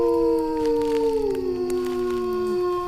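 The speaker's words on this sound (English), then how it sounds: "Ryan just will never stop the wolf howl sound" Wolf howl sound effect, one long, loud, sustained howl that slides slowly downward in pitch and fades out, with no one talking over it.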